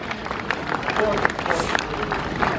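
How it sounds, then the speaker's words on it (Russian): A theatre audience claps after a performance, a dense, continuous patter of many hands heard at moderate level, with crowd murmur and voices mixed into the applause. "Аплодисменты!"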